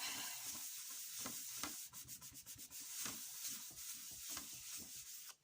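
Card stock rubbed by hand onto an inked stamping plate, a soft rhythmic scrubbing and brushing of repeated strokes, faint and close with no voices.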